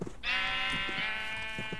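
A single drawn-out sheep bleat from the Minecraft video game, clear and close, wavering for over a second, with faint background murmur around it.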